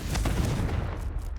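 The Confringo blasting spell from the video game Hogwarts Legacy erupts in a dense, rumbling explosion that roars steadily through the whole moment without fading.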